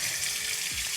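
Hot tap water runs in a steady, close stream for washing makeup sponges, a continuous bright splashing hiss with no break.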